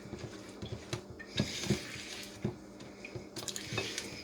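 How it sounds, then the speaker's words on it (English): Pecans are stirred into thick fudge brownie batter in a bowl, producing soft, wet squishing and occasional light utensil taps against the bowl, close and quiet, with no voices. "this is the pecans, and we're just going to mix those in"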